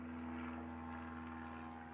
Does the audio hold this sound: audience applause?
no